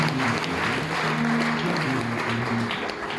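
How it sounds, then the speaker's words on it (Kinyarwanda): A church congregation applauding, a steady dense wash of clapping that holds evenly throughout, with a faint tone running underneath. "Ukoze ijambo ry'Imana amashyi."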